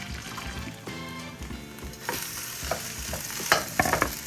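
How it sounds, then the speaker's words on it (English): Two eggs fry in melted butter in a wok, giving a bright, crackling sizzle that swells and pops more sharply toward the end, with a few scraping stirs and no talking. "I'm gonna let this melt all over the pan and then I'm gonna add in my 2 eggs"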